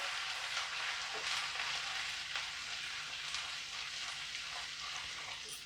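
Ground coriander and other spices fry in oil with a soft, steady sizzle, while a utensil occasionally stirs them in a pan. The sound is faint and continuous.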